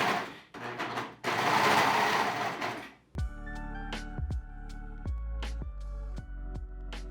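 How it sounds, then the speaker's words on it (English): A serger stitching a new seam line on a garment during an alteration, running in several short machine bursts with thumps between them, after a louder rushing stretch at the start. "And now I can just serge on this new line here."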